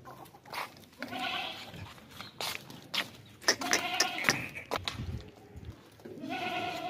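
A plump, well-fed goat at a market bleats several times in close, loud calls with harmonic wavering, while other goats or sheep call nearby amid background noise.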